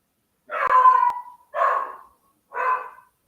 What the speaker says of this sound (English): The dog is going like bark bark.